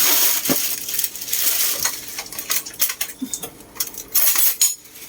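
Radish salad being tossed with utensils in a bowl, giving busy clinking and scraping bursts that come close together and change in strength, with no voices.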